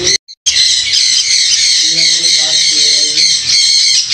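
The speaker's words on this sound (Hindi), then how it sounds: "माशाल्लाह ये ब्लैक कैप लोरी के पीस हैं और बहुत ही प्यारे पीस हैं" Black-capped lories at a Bahawalpur bird market give a loud, continuous shrill squawking right at the microphone, with a brief cutout near the start and someone speaking low beneath.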